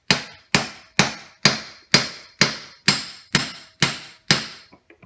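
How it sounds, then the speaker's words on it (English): A hammer taps a part into a Tsurumi 12PN pump clamped in a vise: about ten sharp, evenly spaced metallic strikes, close and loud, each ringing briefly, then a few lighter taps at the end. "the best way I found to do it is to put it in a vise like this and simply tap it in"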